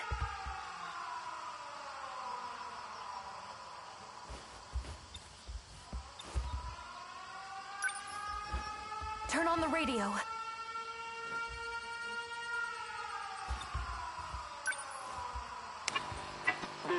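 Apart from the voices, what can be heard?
air raid sirens in the video game 13 Sentinels Aegis Rim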